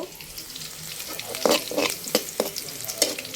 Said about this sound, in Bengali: ডালটা বাগার দেবো।